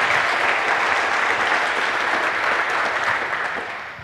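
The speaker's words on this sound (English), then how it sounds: "Want an applause for him." Dense, steady audience applause at a hacker camp talk, filling the room evenly for about four seconds before tapering off at the end.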